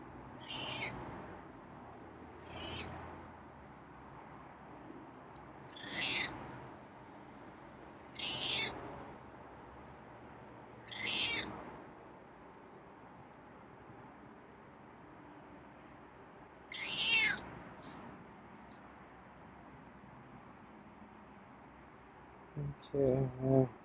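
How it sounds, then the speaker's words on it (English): A feral cat meows loudly in a series of drawn-out calls spaced several seconds apart, with a few quick cries near the end, over quiet room tone. "Oh, that's a loud meow."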